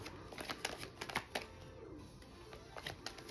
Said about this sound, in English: Hard to shuffle tonight.